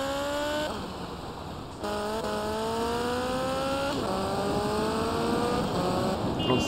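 A car engine in GTA Vice City revs steadily upward through several gear changes, each shift dropping the pitch before it climbs again, with a smooth droning tone at moderate volume and no talking.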